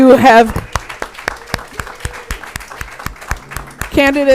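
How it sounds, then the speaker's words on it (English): Scattered audience applause at a city council candidates forum, sparse separate claps heard between a voice talking at the start and again at the end. "Audience, can we give these candidates a round of applause?"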